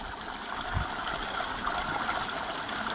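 Water of the Ghaggar river flows in a steady, continuous rushing wash, fairly close and even, with no voices over it.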